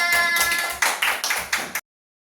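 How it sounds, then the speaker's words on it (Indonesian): A short burst of group clapping from a high school class, uneven and a little sparse, fading out after a couple of seconds into silence. "Oke, tepuk tangan."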